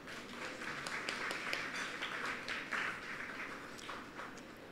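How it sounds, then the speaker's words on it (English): Steady applause from an audience at a Pru Life UK media launch event, a continuous wash of many hands clapping at moderate volume for the full length, with no voices standing out. "So let's give ourselves a round of applause."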